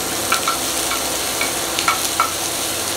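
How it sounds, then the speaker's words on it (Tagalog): Butter sizzling in a pan with onions for bangus sisig, a steady bright crackle with short utensil clinks and stirring scrapes scattered through it. "Dahil nagsisisal na yung ating butter, pwede na natin ilagay ang maraming onion."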